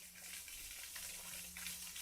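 Natural water gushes under pressure from the ground in a German forest along the Malerweg hiking trail, a steady, hissing rush close by with no voices over it.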